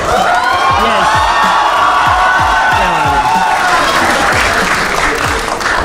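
A studio audience claps and cheers on a game show set, loud dense applause with whoops and shouts, fading slightly toward the end.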